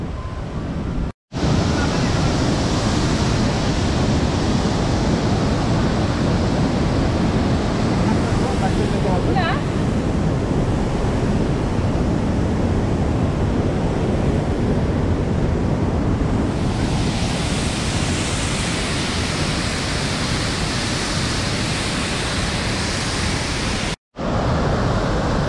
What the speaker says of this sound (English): the falls are 77 feet high, and it's the largest waterfall by volume east of the Mississippi, surpassed only by Niagara Falls